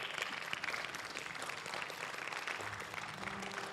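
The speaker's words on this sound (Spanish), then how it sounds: "dale un aplauso al Señor" A church congregation applauds in a sustained, even wash of many hands clapping together, moderately loud and continuous for several seconds with a little crowd murmur beneath.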